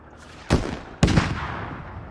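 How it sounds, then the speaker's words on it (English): Two sharp, loud gunshots in Squad hit an MTLB armored vehicle about half a second apart, each cracking out and trailing off in a long, rumbling echo. "That's an already destroyed MTLB they just shot."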